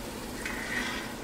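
Butter melts into leftover bacon grease in a cast iron pan, giving a brief, even sizzle with a faint hiss, close and alone.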